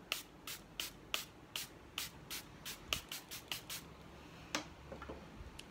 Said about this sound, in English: This is the matte version, so let's set the face.